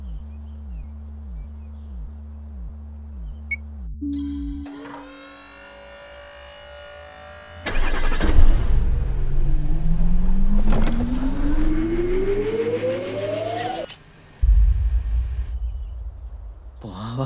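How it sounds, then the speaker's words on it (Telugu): A car in a movie scene starts up and drives itself on autopilot: a rhythmic mechanical whirring, then a sudden burst of engine noise that rises steadily in pitch as the car moves off and accelerates, loud and close. "కార్ని కొట్టాలంటే మన లోపలికి వెళ్ళకర్లేదు, కారే మన దగ్గరకు వస్తుంది"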